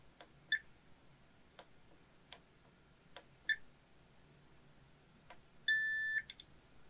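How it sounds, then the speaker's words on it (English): A series of electronic beeps from a Pro-Stitcher Lite quilting machine after a USB drive is inserted into its nose cover port: several short ticks and chirps, then longer, louder tones near the end, clear and close. "You will hear a series of beeps."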